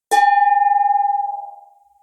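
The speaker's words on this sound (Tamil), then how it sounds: "வெங்கலம்னா இந்த மாதிரி சத்தம் கேட்கணும் பாரு." A single strike on a bronze pot rings out with a bright, pure metallic tone that shimmers and slowly fades away.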